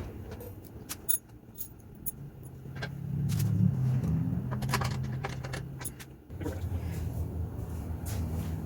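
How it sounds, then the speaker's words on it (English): Stainless steel bolts and backing plates being fitted as a motorcycle fender is bolted onto the seat frame of a 1978 BMW R 80/7, with sharp metallic clinks and jangles over a low steady background hum. "we're going to bolt the fender back onto the seat frame"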